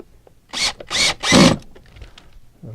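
Three short whirring bursts of a power drill driving a screw until the clutch engages, each a second or less, close and loud, then quiet handling noise.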